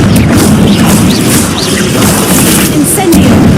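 A Confringo blasting curse going off in Hogwarts Legacy, a loud, dense rumbling blast with crashing debris that roars continuously for several seconds, heavy low boom under scattered higher cracks.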